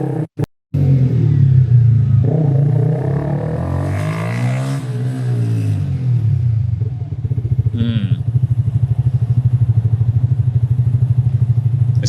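A motorcycle fitted with a new exhaust rides along, its engine a steady close rumble with a rise and fall in revs midway and a rougher pulsing idle-like drone toward the end, with no talking.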